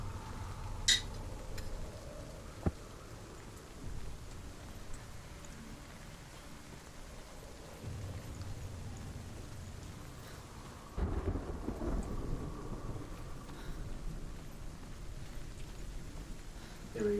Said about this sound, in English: It is very rainy outside